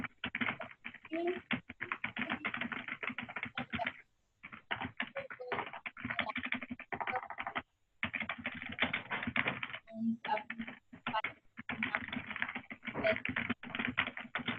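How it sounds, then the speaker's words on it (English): Rapid clacking of computer keys during a remote board meeting call fills the clip in steady bursts, with a few brief pauses between runs of typing. "Somebody's typing and I can't hear anything."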